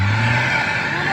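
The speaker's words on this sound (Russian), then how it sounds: "Вон машина едет" A car drives past on a snowy road during a snowfall, giving a brief, steady engine hum with tyre noise at moderate distance and no voices.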